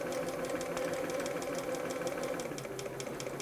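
A Bernina 930 Record electronic sewing machine runs in standard sewing mode, giving a fast, even mechanical clatter with a steady motor hum, close and continuous.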